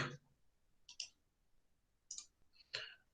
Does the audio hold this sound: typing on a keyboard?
yes